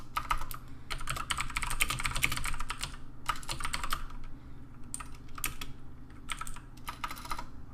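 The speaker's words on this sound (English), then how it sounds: "My typing is just awful today." Bursts of rapid clicking keystrokes on a computer keyboard, typed in uneven spurts with short pauses, over a low steady hum.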